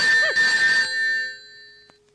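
A telephone rings in a short electronic burst, loud and close, then cuts off and fades into near silence with a faint click near the end; no voices.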